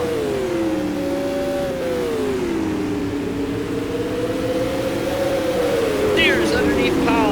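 Supermodified race cars roar around a track at a mid-season championship feature, engines rising and falling in pitch as they pass in close succession, loud and continuous, with a brief squeal of tires near the end.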